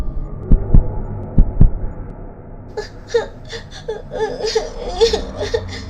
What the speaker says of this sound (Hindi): मीनू मौसी का दिल डर के मारे जोर जोर से धड़कने लगता है